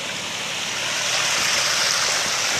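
Water rushing from the overflowing Manoel Marcionilo reservoir spillway, a loud, dense, continuous roar of turbulent flow that stays steady throughout with no talk.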